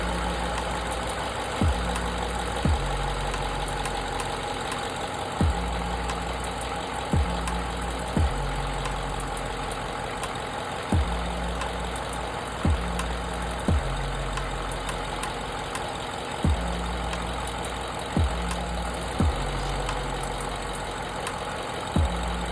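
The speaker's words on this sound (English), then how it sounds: "We're gonna start it back up and try to duplicate our misfire." A Ford F-150 5.0 V8 runs with a misfire, a steady low engine drone broken by sharp periodic stumbles roughly every second or two, close up and with no talking.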